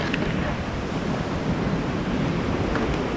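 Ocean waves crash onto the shore in a continuous, loud roar, with wind buffeting the microphone throughout and no voices.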